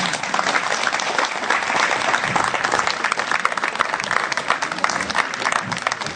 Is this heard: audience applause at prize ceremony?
yes